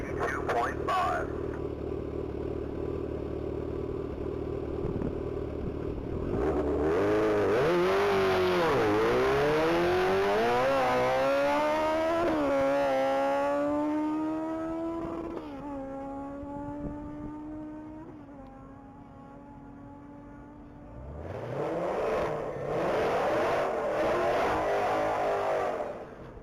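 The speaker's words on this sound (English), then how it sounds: "motorcycle number 305. That's going to be a 2012 Kawasaki Ninja CX-14." A 2012 Kawasaki Ninja races at top speed on a mile-long course. A loud engine roar rises through repeated upshifts in the distance, then fades away, and a second engine swells near the end, with crowd and event noise underneath.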